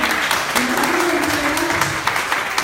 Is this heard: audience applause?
yes